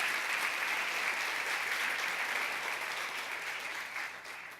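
A church congregation applauds at length, a steady, dense wash of clapping filling the room, fading slightly toward the end with no voices over it.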